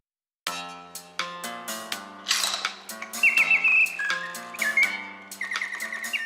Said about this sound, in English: a French watchmaker perfected the sound mechanism, making the birdsong virtually indiscernible from the real thing